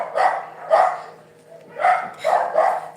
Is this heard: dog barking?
yes